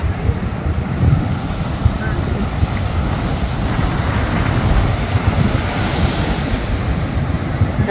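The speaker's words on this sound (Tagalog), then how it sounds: "Wow, ang lakas ng alon din." Strong ocean waves at a beach in Tantura, Israel, roaring as a loud, continuous wash of surf mixed with heavy wind buffeting the microphone.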